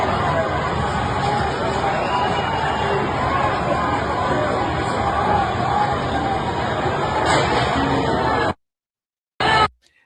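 A protest crowd chants in a played recording, a dense, loud mass of voices and noise that runs steadily for most of the clip, then cuts to silence before a brief burst returns.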